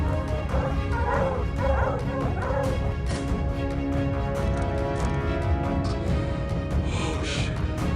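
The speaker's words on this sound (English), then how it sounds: "Their booming barks told me they had found their target." Hunting dogs bark and yip steadily in the woods during a leopard hunt in India, a busy chorus of overlapping barks and whines that stays fairly loud and close throughout.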